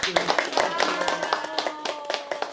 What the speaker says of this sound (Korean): 다시 한번 뜨거운 박수로 환영해주세요.